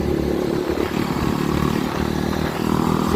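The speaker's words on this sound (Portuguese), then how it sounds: "Se liga na moto, rapaziada." A motorcycle engine runs loud and near, a steady rough rumble with a slight rattle and no pauses.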